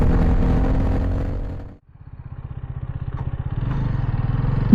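Hero Karizma XMR motorcycle engine while riding: a loud, close, steady engine roar drops away briefly for a gear change, then returns as a pulsing, rising note that builds with acceleration.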